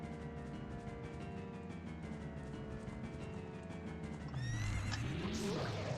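A horse in the Ocarina of Time video game gives a loud whinny near the end, rising and falling over steady game music, with clip-clop hoofbeats alongside.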